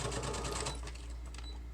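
A sewing machine stitches along a paper roll being sewn into a journal, a steady close mechanical run that is loud at first and eases slightly toward the end, with no talking.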